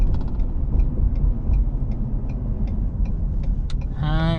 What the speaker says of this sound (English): Yeah, that sounds like I'm gonna fly with this turbo diesel.